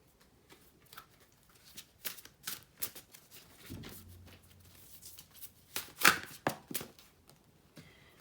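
Oracle cards being shuffled for a tarot reading, quiet close papery riffles and taps in uneven bursts, with a brief soft rustle midway and no talk.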